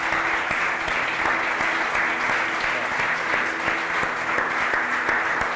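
A church congregation claps steadily during a Spanish-language Catholic service, a full, even roar of applause sustained throughout, with faint tonal sounds hanging underneath.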